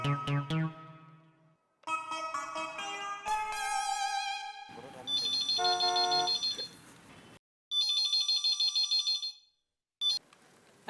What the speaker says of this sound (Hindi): जेठा को फोन करके बुला लेता हूँ।